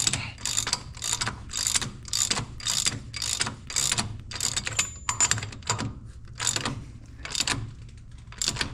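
A socket wrench ratchets on the priority valve of a large-frame Oliver 55 Series tractor, giving quick bursts of sharp clicking strokes, close and crisp, repeated in a steady rhythm with short pauses between.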